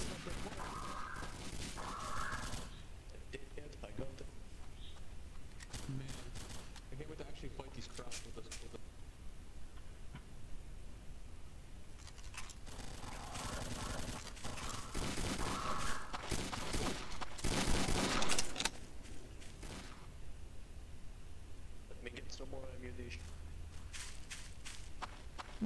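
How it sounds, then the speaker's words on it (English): Artillery strikes in a Roblox WWII Soviet roleplay game land as scattered booms and blasts, with a louder burst near the end, among gunfire and running footsteps while players talk over the action. "Yo, artillery strikes"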